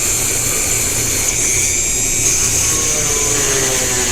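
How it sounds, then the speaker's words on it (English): A power drill countersinks screw holes out in the field, running as a steady, loud whine with a broad rushing tone that holds without pause. "This is my in the field attempt at countersinking for the screws"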